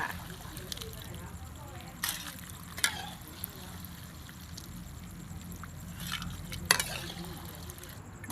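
Small fish scales fry in oil with a faint, steady sizzle while a strainer scoops them out, giving occasional scraping clinks, heard softly beneath someone talking.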